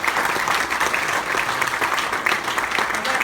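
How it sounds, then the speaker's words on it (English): A seated audience at a Sydney future-and-innovation event breaks into steady applause, a dense wash of many hands clapping at close range, loud and even throughout with no voices standing out. "ladies and gentlemen, round of applause"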